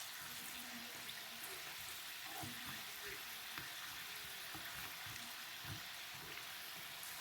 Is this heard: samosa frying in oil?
yes